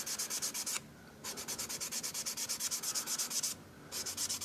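Quick, rhythmic back-and-forth strokes of 400 grit sandpaper on a model car body, close and crisp, coming in three runs separated by short pauses.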